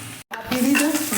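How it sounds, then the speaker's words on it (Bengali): Rice frying in a pan with beans, a steady close sizzle broken by a brief silent gap, then louder scraping stirs. "আচ্ছা, ভাত ভাজা হচ্ছে"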